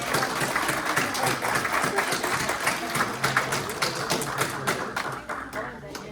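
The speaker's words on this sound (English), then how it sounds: "Give them a big round of applause." Audience applause at a RIMAN K-Beauty company presentation as team leaders are called onstage, a dense, steady wash of clapping across the whole stretch with a few louder claps, fading slightly near the end, with voices mixed in.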